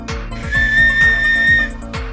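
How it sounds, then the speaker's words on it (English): A Super Mario Brothers toy whistle blown once in a steady, shrill, sustained tone lasting over a second, heard over a repeating rhythmic backing beat. "and here we have a Super Mario Brothers whistle."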